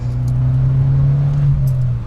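An Abarth 595 Competizione exhaust booms steadily as the car accelerates, a loud, close, continuous low drone heard from inside the cabin with faint rustles on top.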